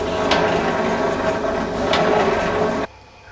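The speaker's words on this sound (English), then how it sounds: "I normally start by drilling little holes somewhere near the middle to drill out a bigger hole" A power drill whirs steadily, drilling small holes in a plastic bottle cap for a water rocket nozzle, with a gritty, grinding buzz, then cuts off abruptly near the end.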